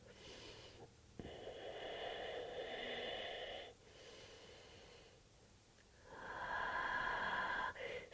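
Slow, audible breathing held through a yoga pose, with long airy inhales and exhales separated by brief pauses, fairly close and quiet with no talk over it.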